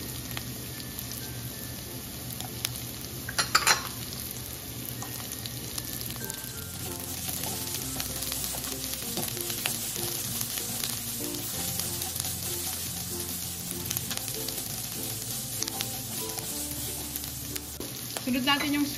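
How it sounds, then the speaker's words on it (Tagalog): Chopped onions sauté in a hot pan for pancit miki guisado, a steady close sizzle and crackle with occasional stirring scrapes, running continuously at moderate volume. "Tapos lagyan na natin yung ating sibuyas."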